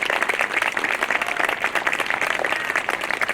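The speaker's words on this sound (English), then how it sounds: "So I just want you guys to give them a round of applause" An audience at a school band concert applauds the young players, with dense, steady clapping from many hands that stays strong and close throughout without pause.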